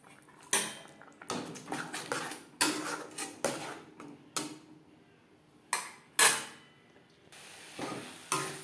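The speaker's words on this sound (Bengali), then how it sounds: "লো টু মিডিয়াম ফ্লেমে মশলা বেশ ভালো করে কষিয়ে নেব" Spice paste for a duck egg curry being stirred in a pot, with repeated loud metal scrapes and clinks of a spoon against the pot spaced a second or so apart over a quiet background.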